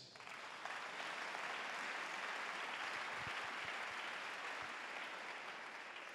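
A church congregation applauding for Jesus, with steady dense clapping from a large crowd that holds evenly throughout, loud and close.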